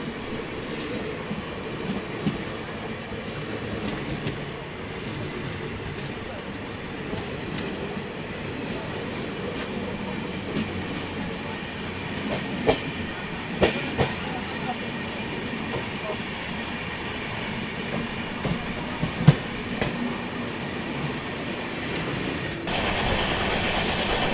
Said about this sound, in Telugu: అక్కడి నుంచి ఏదో చాలా స్పీడ్గా వస్తుంది ట్రైన్